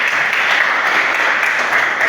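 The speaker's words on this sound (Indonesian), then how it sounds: "Tepuk tangan lagi" A class audience at a student presentation claps in steady, dense applause that fills the room and stays close and even, with a faint voice underneath.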